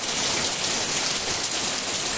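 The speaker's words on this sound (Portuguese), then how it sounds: "a chuvada que começou" Heavy rain pours down outside a balcony after a sudden change from sunshine, a dense, even hiss of falling water that stays loud and unbroken throughout.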